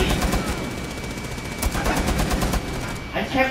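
Steady rapid automatic fire from Tachanka's mounted machine gun in a shooter game, a continuous dense rattle throughout with a brief pause near the end.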